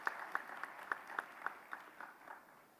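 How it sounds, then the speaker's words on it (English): Clapping from a conference audience, with about ten evenly spaced distinct claps, somewhat distant and fairly faint, fading toward the end. "I think a clap to that."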